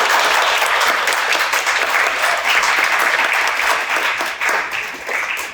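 An evening audience gives dense, steady applause that thins out slightly toward the end, with no voices standing out.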